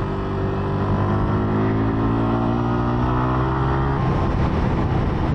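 A 2023 Yamaha R125 motorcycle's small engine drones steadily while riding on the road, a loud continuous tone with its pitch climbing slowly, then shifting near the end.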